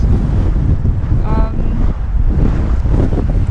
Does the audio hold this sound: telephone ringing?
no